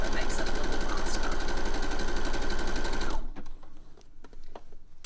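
A sewing machine stitching fabric at a fast speed gives a loud, dense, steady mechanical whir for about three seconds, then stops, leaving quiet handling noises.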